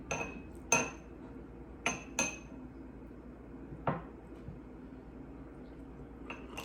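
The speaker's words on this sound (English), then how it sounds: "I'm gonna put a little bit of butter." A knife clinks against a plate while butter is spread on a hot bacon cheddar biscuit, a few sharp, faint taps spaced out over quiet kitchen background.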